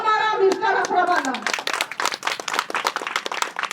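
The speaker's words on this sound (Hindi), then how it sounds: "आप सब बोलेंगे तब जबरदस्त ताली बजाइएगा" An audience breaks into loud, energetic clapping right after a raised voice finishes speaking, the sharp dense claps continuing strongly to the end.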